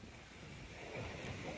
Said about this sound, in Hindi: देखिए अभी समंदर कैसा आवाज कर रहा है, बहुत तेज आवाज आ रहा है समंदर का।